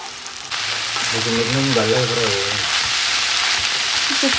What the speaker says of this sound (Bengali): এখন এখানে আমি পেঁয়াজ রসুন দিয়ে বাগার দিয়ে নিচ্ছি